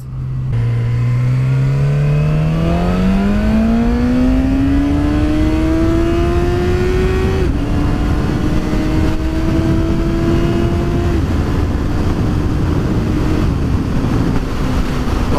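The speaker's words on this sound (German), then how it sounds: "Wir geben da hinten mal Gas." A motorcycle carrying a pillion passenger accelerates hard on a windy road. The engine note climbs steadily in pitch, drops briefly at a gear change and keeps rising, loud and close throughout, with wind noise underneath.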